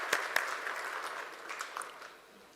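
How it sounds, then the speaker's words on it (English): Faint applause after the African Union anthem at a political conference on peace, security and development, a few sharp claps at first then a thin scattered patter that fades away. "Let's applaud for the African national anthem."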